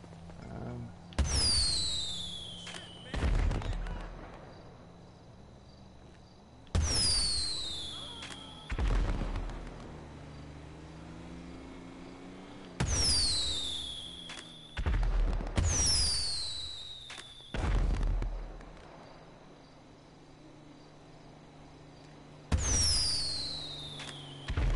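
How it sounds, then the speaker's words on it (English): Repeated firework bursts from a firework launcher in the video game GTA, each one a sharp bang followed by a crackling, whistling spray, arriving in irregular clusters a few seconds apart with quieter gaps between them. "it's a beautiful night to go pop a fireworks."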